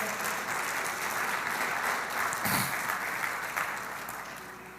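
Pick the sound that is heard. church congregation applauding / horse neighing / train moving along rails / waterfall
church congregation applauding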